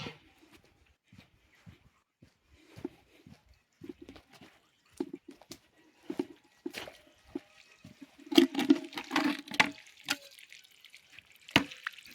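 Water is poured into a container to mix a potassium monophosphate fertilizer solution for roses: quiet, irregular splashes and trickles, growing louder and busier toward the end, with no talking.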